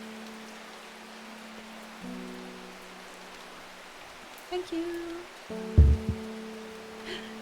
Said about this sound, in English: obviously finding it very soothing to listen to the rain